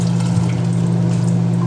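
Tap water runs steadily into a kitchen sink, a smooth continuous rush over a low, even hum, with no distinct drips standing out.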